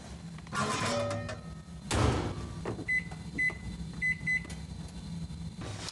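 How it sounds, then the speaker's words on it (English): A microwave oven heating cauliflower hums steadily, with a thump near the start, a few short beeps midway, and light clattering around it. "We're gonna give it a microwave for about 4 minutes."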